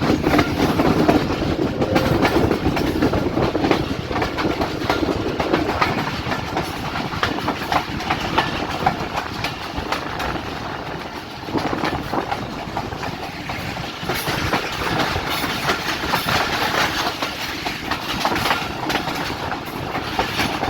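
Rehman Baba Express passenger train running on the line from Taxila toward Rawalpindi, just past Golra station: a steady loud rumble with continuous clickety-clack of wheels over rail joints, heard from on board with no talking.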